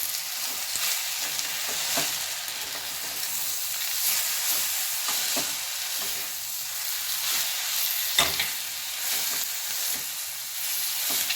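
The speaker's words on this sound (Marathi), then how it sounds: "आता आपण भाजीमध्ये चवीनुसार मीठ घालून घेणार आहोत त्याला व्यवस्थित परतून घेणार आहोत" Ambadi (roselle leaf) greens are stir-fried with salt in a pan, giving a steady loud hissing sizzle with occasional soft clinks and scrapes of stirring. The sound is close and continuous, with no voices.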